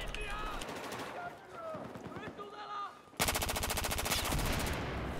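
Sniper rifle fire in Battlefield 4 gameplay, a run of sharp shots under a player's chatter, then a dense rapid burst of gunfire filling the last two seconds.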